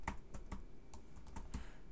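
Quiet, steady typing on a computer keyboard, with irregular clusters of light key clicks close by and no voices.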